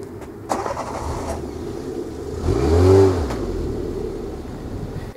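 A rally car engine turns over and catches after a push, rising to a short rumbling rev around the middle before settling into a steady idle, close by.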